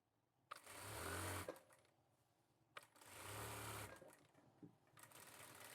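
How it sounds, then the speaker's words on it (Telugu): A sewing machine stitches a men's kurta in two whirring bursts of about a second each, then a shorter run, with quiet pauses between; close and faint. "క్లాత్ రివర్స్‌లోనే ఉంచుకొని ఇలాగా ఒక పావించికైతే కుట్టు వేసుకోవాలి."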